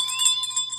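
A bell sound effect rings out as a steady, sustained metallic tone with bright shimmering overtones, clear and alone for under a second.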